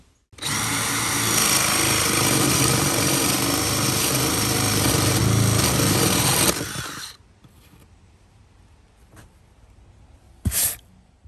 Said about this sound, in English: so that we can just jigsaw straight through and have a nice curve